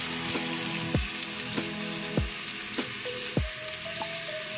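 Food frying in hot oil with a little salt added, a steady close crackling sizzle with occasional sharper pops and spits, no voices.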